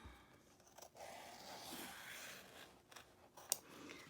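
Quiet, close scissors snip and slide through stiff fabric stabilizer behind a zipper, a few soft cuts with a sharper click near the end, no talking.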